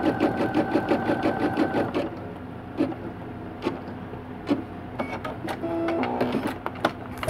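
A home embroidery machine stitches a satin stitch with tension set between 1 and 2, its rapid rhythmic needle clatter steady and close for about two seconds, then slowing into scattered mechanical clicks and whirs.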